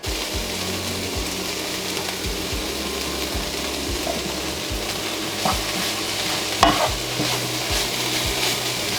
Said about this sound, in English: we're just gonna let these saute for a good 5 to 10 minutes